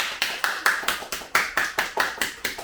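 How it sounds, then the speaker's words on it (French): A small audience at a French show applauds, about a dozen distinct claps in a quick, fairly even rhythm, close and clear with no talking. "On l'applaudit bien fort."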